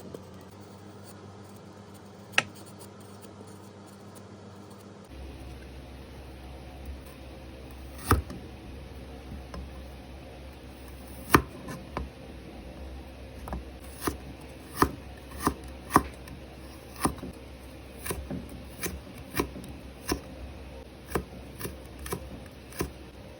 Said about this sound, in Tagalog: Talupan naman natin ang luya at hiwain ng palito style.